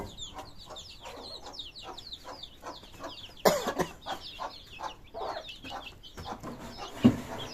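Chickens, including Brahma chickens, cluck in a steady, busy run close by on a small farm, with high chick-like peeping throughout and a sharper squawk from the rooster near the end.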